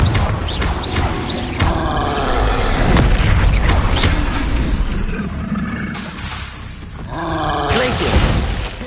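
Confringo fire-blast spell cast repeatedly in the Hogwarts Legacy video game, loud booming explosive bursts and crashes in dense succession with overlapping combat noise and a voice calling out spell names.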